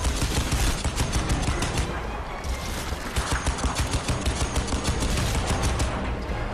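Rapid gunfire from a weapon in the video game Crysis 2, a dense, loud stream of sustained automatic shots with steady rhythmic bursts filling the whole stretch.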